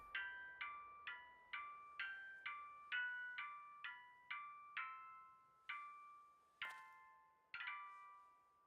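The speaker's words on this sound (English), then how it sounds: "That sounds like a horrible, cringy ringtone" A phone ringtone in the video game Yakuza 0 plays a bright chiming melody of repeated bell-like notes, evenly paced at first and then slowing with a few accented strikes, clear and alone against silence.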